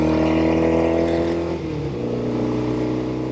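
A 1972 Norton 750 Commando Combat motorcycle engine runs at higher RPM while riding, a loud, smooth steady drone with a brief dip in pitch as the throttle eases, then continuing at a slightly lower note.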